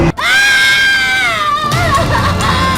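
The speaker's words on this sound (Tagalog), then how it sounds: "Hiyaw ng isang babae na sinilaban ng buhay habang siya'y natutulog" A loud, sustained high-pitched scream from a woman being set on fire, wavering slightly in pitch, close and piercing throughout.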